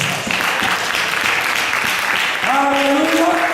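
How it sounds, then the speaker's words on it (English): A church congregation claps during a sermon, a dense wash of applause filling the room while a voice sings or calls out over it toward the end. "Give a clap over to my Jesus Christ."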